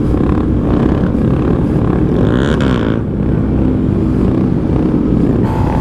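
A mini bike engine drones loudly as the rider holds a wheelie on a city street, a sustained buzzing roar with a slight rise and dip in pitch, heard close without talk.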